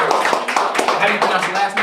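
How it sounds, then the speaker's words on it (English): Small audience giving a round of applause at a writing session, a brief patter of scattered claps with speech over it. "give a round of applause"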